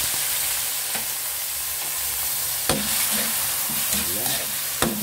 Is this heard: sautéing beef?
yes